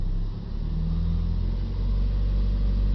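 Ford diesel engine held a little above idle, a steady low rumbling drone with a faint rise in pitch midway, close and continuous with no voices.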